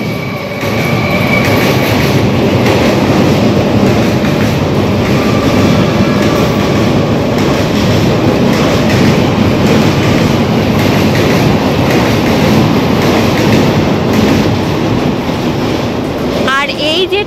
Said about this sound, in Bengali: আর এই যে ট্রেনটা গেল এটা কিন্তু সোজা দমদমে চলে গেল